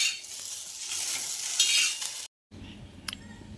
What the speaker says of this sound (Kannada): ಈಗ ರೊಟ್ಟಿ ಮಾಡಿ ಅದೇ ಹಂಚಿನಾಗೆ ಬೆಂಡೆಕಾಯಿ ಹುರಿಲತ್ತೀನಿ.